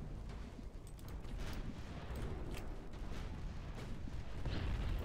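Naval artillery fire in the Ultimate Admiral Dreadnoughts battle game, with warships firing on enemy battleships, heard as a dense, distant rumble of booms and blasts rolling continuously at low level.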